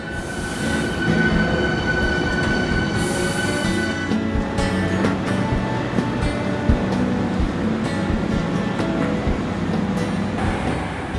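A Hankyu 5300 series train, a 1972-built air-conditioned commuter car on the Kyoto Line, runs along with a steady heavy rumble, rhythmic wheel clatter and a high squeal early on, heard from inside the car.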